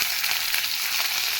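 Onions added to hot oil with dried red chillies and bay leaves give a loud, dense, continuous sizzle, close and steady throughout the brief moment.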